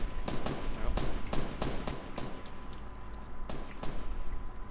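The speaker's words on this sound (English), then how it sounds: "Hear the gunfire?" Gunfire in the Fortnite battle royale video game: several bursts of rapid shots spread through the span, mid-distance and fairly loud, with people talking underneath.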